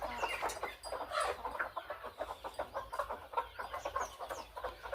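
Free-range country hens cluck nearby in quick, uneven bursts, several birds calling over one another in a soft, busy chatter.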